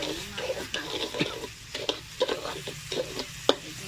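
Sugar being stirred and simmered in a pan until it melts, with a steady sizzle under repeated scraping strokes of the utensil and a few sharper clacks against the pan.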